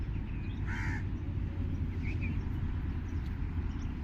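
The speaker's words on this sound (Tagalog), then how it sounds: "yung uwak ko ayun. Ingay." A crow caws twice in short bursts, moderately distant, over a steady low rumble of outdoor noise, with ducks and seagulls nearby.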